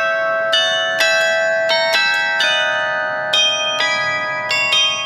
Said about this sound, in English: The carillon is sounding out for all to hear.